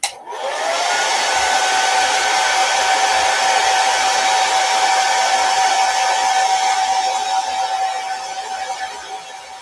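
Handheld dryer blowing on a macrame wall hanging craft project with chalk couture transfer work, a loud continuous whine running the whole time and easing off slightly at the end.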